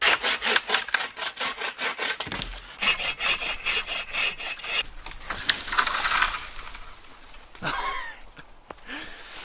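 Rhythmic back-and-forth hand sawing of wood outdoors at a winter camp, close and loud strokes that pause midway then resume and trail off, with a brief voice near the end.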